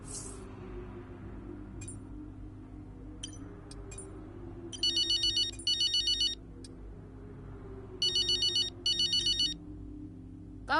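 Phone ringing in the racing game F1 2023, a faint electronic ringtone in repeated short bursts over a quiet low background hum.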